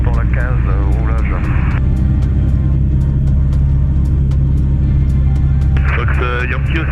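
A DR40 light aircraft taxiing toward the runway 15 holding point, with a steady loud engine drone and propeller rumble throughout while radio chatter and a pilot speak over it.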